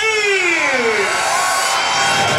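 A crowd at an outdoor Honda motorcycle stunt show shouts and cheers loudly and continuously, with rising and falling whoops layered over a constant roar of voices.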